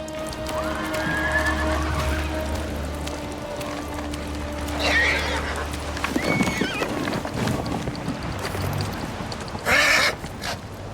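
A horse in the video game Ghost of Tsushima whinnies twice amid hoofbeats and a low droning hum, the second neigh louder and sharper; some speech is mixed in.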